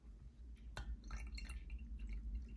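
Faint trickling and clinking of water poured into a glass, a soft splash and small drips over a low background hum.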